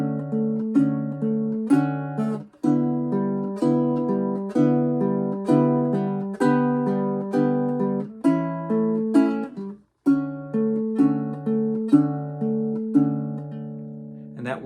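A baritone ukulele is fingerpicked in a steady repeating pattern, strings 4, 1 and 2 plucked with the thumb alternating on string 3, bright picked notes ringing clearly at moderate volume with no talking.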